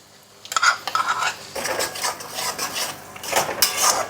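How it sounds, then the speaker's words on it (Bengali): Mutton masala with yogurt being worked in a pan, with a spoon scraping and clinking against the metal in repeated close strokes. "দইটা দিয়ে আমি ভালো করে কষে নিলাম।"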